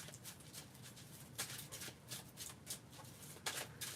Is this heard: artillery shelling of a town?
no